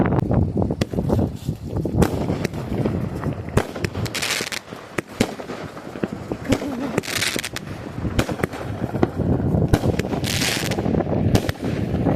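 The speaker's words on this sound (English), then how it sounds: "And now it's firework time." Fireworks burst continuously in Detroit, a dense barrage of loud cracks and booms with crackling tails, some near and some farther off, with no talking.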